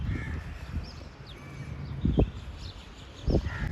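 Two harsh crow caws ring out outdoors in Karachi, spaced about a second apart, moderately near over a steady background of ambient noise and faint birdsong.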